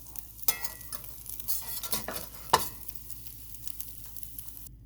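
A mung bean pancake frying in an oiled pan, soft sizzling broken by a few sharp spatula clunks as it is flipped, close and fairly quiet.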